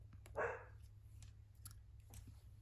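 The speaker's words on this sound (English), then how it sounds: "the dog is barking a little bit" A dog barks once in the distance, a short muffled bark over a low background hum, followed by faint clicks and rustling.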